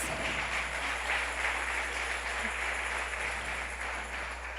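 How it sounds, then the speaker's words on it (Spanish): A church congregation at a Friday evening worship service applauds steadily, a dense, even wash of clapping at moderate volume that continues throughout without pause. "Dale un aplauso al Señor, no se quede con las ganas."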